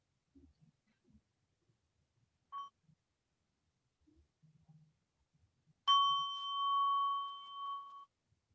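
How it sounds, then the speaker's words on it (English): A meditation bell is struck once, ringing out clearly and sustaining a pure, slowly fading tone for about two seconds in a quiet room. A faint short ting and scattered soft noises come before it. "We can listen to Sound of the Bell before we continue."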